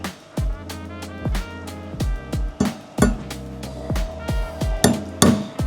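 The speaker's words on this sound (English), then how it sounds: "what we're going to do again is use a hammer" Hammer tapping a pin into a Ford Fiesta ST quickshift gear selector arm on a workbench, a steady series of sharp metallic taps, about twelve in quick irregular rhythm, close and clear.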